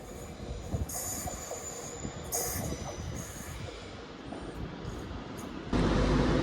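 Trains 35369 and 35401 pull out of London Euston bound for Birmingham New Street, a continuous rolling rumble with high wheel squeals and a louder surge near the end, no voices.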